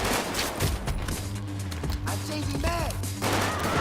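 Gunfire in a film scene, an agent shooting blindly, comes as a dense volley of sharp overlapping shots over a background music score, loud and sustained throughout.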